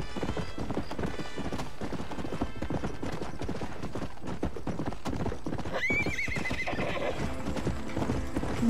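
A horse in the Western video game Red Dead Redemption gallops with rapid, loud clip-clop hoofbeats throughout, then gives a clear whinny near the end over the steady hoofbeats.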